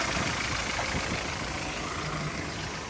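An Opel Vectra engine idles at a used-car market with the hood open, a steady mid-pitched running hum with faint knocking texture, close and even throughout.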